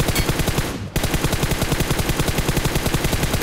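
Sustained automatic gunfire sprays in the mobile battle game BGMI, a rapid, evenly spaced stream of loud shots with one brief break before the burst resumes and continues without pause.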